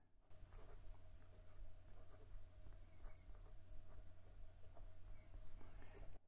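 A Pelikan M800 Souverain fountain pen with an 18 karat gold nib writes on Clairefontaine 90 GSM paper, giving faint, close scratchy strokes in a quiet room.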